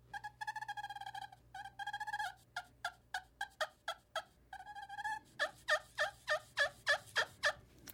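Limb Walker Game Calls Purr plate turkey call worked with a cedar stick: a close series of soft, mellow clucks and purring yelps in a steady rhythm, heard alone without talk.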